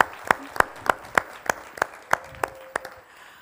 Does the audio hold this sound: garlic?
no